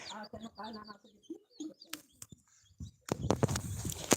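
Soft chick chirps and cooing mixed with people talking nearby on a farm, followed by a louder burst of busy chirping and rustling near the end.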